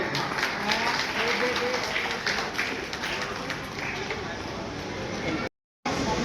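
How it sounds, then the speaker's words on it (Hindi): Audience applause for a child receiving a prize at a Tulsidas Jayanti event in Karol Bagh, steady dense clapping that continues for several seconds before a brief cut. "तालियां बच्चे के लिए।"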